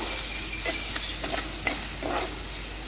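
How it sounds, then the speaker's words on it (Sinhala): Spices are stirred into a Kerala-style egg curry in a pan, giving a series of rhythmic spatula scrapes over a soft, steady sizzle, close up and without voices. "දැන් අපි මේ සේරම දාගත්තට පස්සේ හොඳට කලවම් කරගමු"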